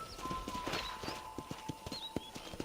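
Horse hooves clip-clop in a steady walking rhythm, evenly spaced and close, with faint game-like ambience behind them, in Red Dead Redemption.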